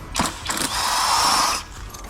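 A ratchet wrench works on a Duramax diesel alternator, a couple of quick clicking strokes followed by a fast, buzzing ratchet spin, close and clear.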